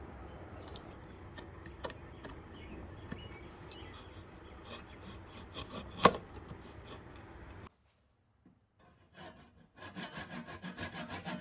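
Reclaimed hardwood boards are cut with a hand saw, giving steady rasping strokes with one sharper knock midway, then a short pause before the sawing resumes at a quick rhythm.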